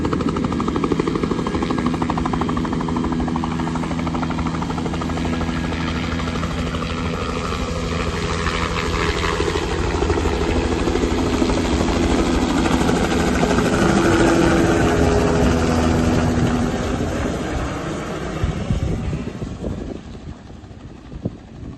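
A helicopter's engine and rotor roar loudly and steadily close by as it takes off, then gradually fade toward the end. No one speaks.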